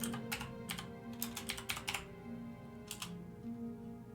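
Fingers type on a computer keyboard in quick clusters of crisp clicks with short pauses between them, close and fairly quiet over a low steady hum.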